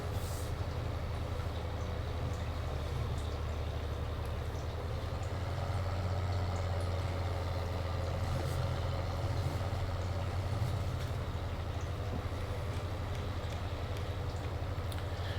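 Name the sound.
tractor engine running, from video game Farming Simulator 19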